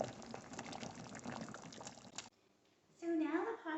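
Water boils in a pot for lasagna noodles, a dense bubbling hiss that stops abruptly before a brief voice is heard near the end.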